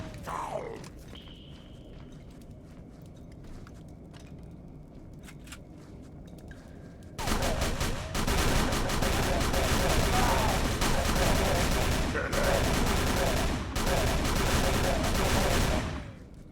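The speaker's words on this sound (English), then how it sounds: "Magnificent gunplay." Gunfire during a shootout in Call of Cthulhu: Dark Corners of the Earth, breaking out suddenly as a dense, loud stretch of rapid shots and crashes after a quieter lead-in with shouted voices.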